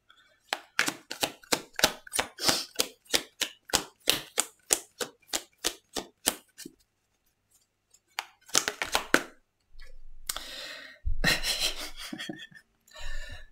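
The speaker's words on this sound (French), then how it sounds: "C'est terrible à mélanger ce jeu, il y a tellement de cartes." A large deck of oracle cards being shuffled by hand, a rapid series of about twenty rhythmic papery riffles, a brief pause, then looser bursts of card flicking and sliding, close and alone without talking.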